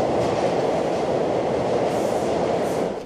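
Inside a moving subway train, a steady, dense rumble of wheels and carriage noise holds at an even level throughout, with no voices.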